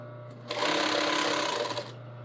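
A sewing machine runs a long seam on a garment, with a close, steady mechanical whir lasting just over a second that starts and stops abruptly over a low hum.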